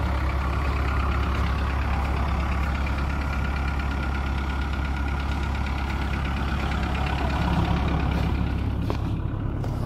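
A 2003 VW Golf engine idles steadily just after starting, a continuous low mid-pitched hum with no knocks or extra noises, alone and fairly close throughout.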